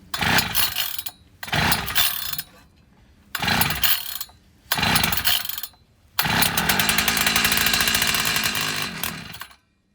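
An old Craftsman tiller engine, recently given carburetor cleaner, fires in several short roaring bursts separated by brief silences, then catches and runs steadily and loudly for about four seconds before cutting off.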